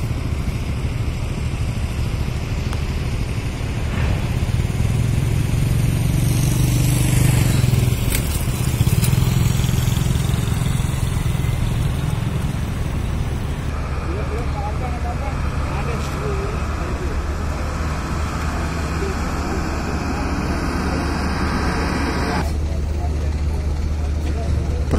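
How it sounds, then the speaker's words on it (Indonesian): Vehicles and trucks idle in a night queue to board the KMP DLN Oasis ferry from Lombok, a steady low engine rumble with scattered clanks and mechanical noise, and people talking over it throughout. "Jadi ini suasana antrian kendaraan atau truk atau para penumpang yang akan masuk ke Dylan Oasis pada malam ini."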